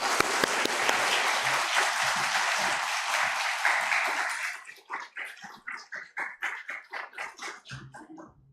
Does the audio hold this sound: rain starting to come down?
no